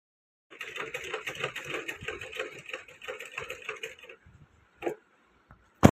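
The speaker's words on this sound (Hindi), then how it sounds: "चलो इला सिलाई लगाता हूँ फिर दिखाता हूँ आप मन।" A tailoring sewing machine stitches sleeve fabric in a fast, steady mechanical run for about four seconds, then stops, followed by a couple of sharp clicks and knocks in a quiet room.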